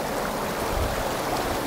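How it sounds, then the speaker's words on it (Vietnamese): A mountain stream flows steadily, giving a dense, even wash of rushing water close to the microphone, with no voices. "Đây là dòng suối."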